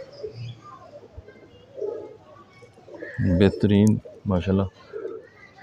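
Pigeons coo close by in a few soft bursts, the loudest calls in the middle and near the end of the clip, while someone speaks briefly in the background.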